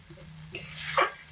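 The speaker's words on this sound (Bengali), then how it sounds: "এবার এগুলোকে খুব ভালো করে একটু মিডিয়াম আঁচে রেখে কষিয়ে নেব" Spice paste with chopped coriander leaves being stir-fried over medium heat, a quiet low hum breaking into a soft sizzle and a short scraping stir near the end, with no talking.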